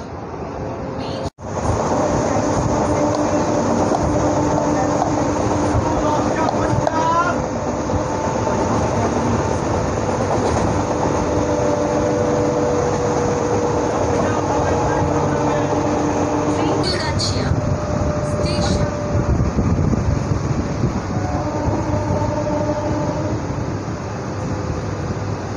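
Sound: MEMU passenger train running on rails

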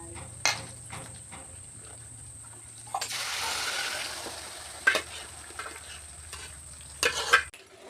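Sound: stirring tomato pickle while frying in a pan

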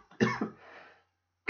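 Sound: cough

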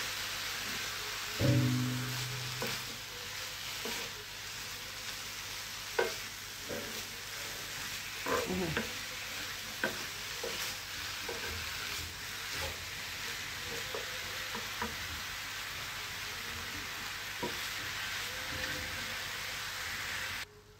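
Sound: stirring and sautéing pasta in a pan

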